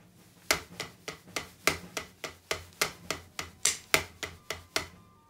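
A snare drum with its snares engaged plays an accent exercise: a steady stream of crisp, buzzy strokes, roughly thirteen in about five seconds, with some hits noticeably louder than others.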